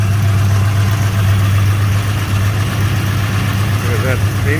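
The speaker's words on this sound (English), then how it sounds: "I will start the car up, and then you can have a listen to how good this sounds as well" 1976 Holden LX SS Torana hatchback engine idling with a steady, low, even rumble, close and loud throughout, with a brief voice near the end.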